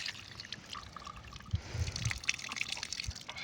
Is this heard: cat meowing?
no